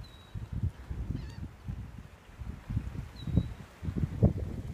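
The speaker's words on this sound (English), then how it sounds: "There's some giant flock of birds over here." A large flock of birds by the Morgan River in South Carolina keeps up a steady chorus of low honking, grunting calls from a distance, overlapping in uneven bursts.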